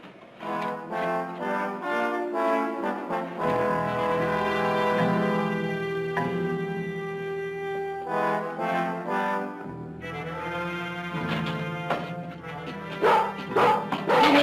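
A sheepdog barks in short, repeated bursts over a steady musical background, the barks loud and close, with a few yips among them.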